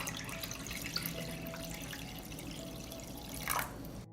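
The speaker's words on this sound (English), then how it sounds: "I pour water into the pot." Water pours steadily into a cooking pot holding glass jars on a cloth, a continuous wash and trickle with a brief louder splash near the end.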